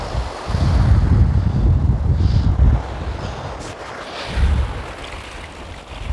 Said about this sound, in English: Just wait for the waves.